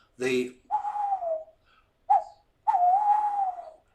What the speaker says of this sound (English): you all know the call of the tawny owl